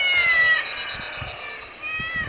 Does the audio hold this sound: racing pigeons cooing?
no